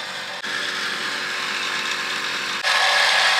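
Imitated harmonic of synthetic winch rope lines rubbing together during Jeep winching, a continuous buzzing grind with two abrupt shifts in tone, fairly loud and close, no talk.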